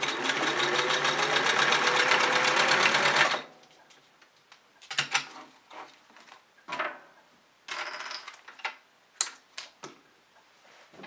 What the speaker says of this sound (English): And now you don't even have to pull the thread up like you would with other sewing machines. You can just start sewing.